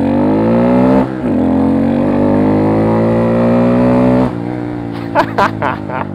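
A Honda Grom 125cc motorcycle engine revs up and holds a loud, buzzing pitch close by, drops briefly, climbs again, then settles into sputtering idle.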